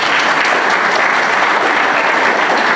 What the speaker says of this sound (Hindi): एक उनकी शान पे तालियां बजा दें जोर से।